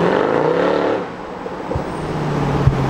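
A Mercedes C63 with a V8 engine revs with a deep roar that rises and then falls away, followed by quieter idle rumble and a couple of low pops.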